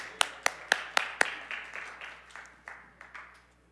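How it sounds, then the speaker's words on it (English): A church congregation claps in praise during a Sunday service, about a dozen sharp, evenly spaced claps that start loud and fade steadily quieter, with no voices over them. "Come on, let's clap our hands and praise the Lord."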